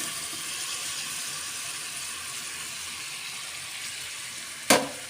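Ground masala paste for a farm-chicken keema curry frying in hot oil in a pan, a steady broad sizzle running throughout with one sharp clatter near the end.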